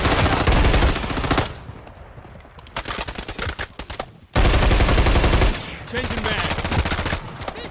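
Gunfire in the Call of Duty game: loud rapid automatic bursts, close and dense, separated by quieter gaps with scattered shots, while a voice speaks briefly.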